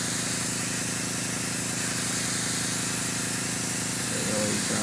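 Steady, close hiss of an airbrush laying down Badger Stynylrez primer in a wide pattern, unbroken throughout, with a brief low voice creeping in at the very end.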